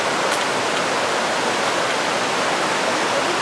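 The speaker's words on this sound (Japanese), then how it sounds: "こんな感じで川が続いてます。" A forest river flows in a steady, dense rush of water, close and even throughout, with no voices over it.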